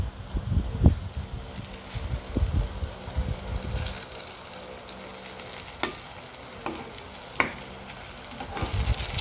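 Eggplant fries in a pan with a constant close sizzle and crackle, broken by soft scraping and stirring knocks from a utensil, no voices present.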